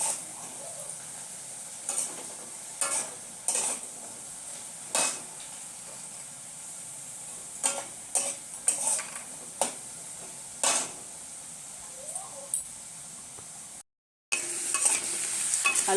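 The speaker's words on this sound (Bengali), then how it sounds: "আলুটা ভাজা হয়ে গেছে" Potatoes frying in a pan on a gas stove, a steady soft sizzle broken by repeated scraping stirs of a utensil against the pan, near and alone, with a brief dropout toward the end.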